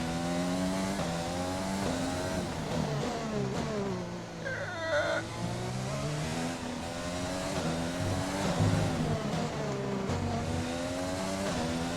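Loud, continuous F1 race car engine from the F1 2020 video game at the Mexican Grand Prix, a high whine rising and falling through gear shifts, with brief tyre squeal and no talking.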